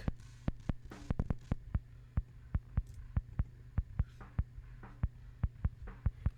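A kick drum picked up by the out mic, isolated from a mix. It thumps in a steady, even pulse, round and close, with a few quicker clustered hits near the start and nothing else playing.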